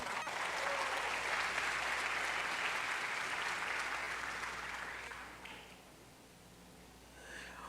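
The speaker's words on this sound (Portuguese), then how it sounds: "Você pode aplaudir a Jesus" A church congregation applauds in praise of Jesus, a dense, steady wash of clapping that holds loud for about five seconds before thinning and fading, with a brief swell near the end.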